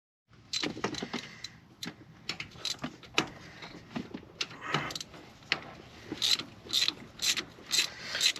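Ratchet wrench clicking as 13mm bolts are undone on a car's shifter during a Cobra MGW shifter install, close and fairly quiet, in irregular bursts of quick clicks with brief metallic clanks between them.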